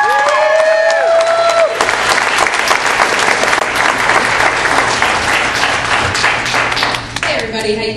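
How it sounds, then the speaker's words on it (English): Loud, sustained audience applause with whoops and cheers fills a comedy club as a stand-up comedian is introduced, dense clapping holding steady throughout and easing slightly at the end. "Make some noise for Cynthia Marshall!"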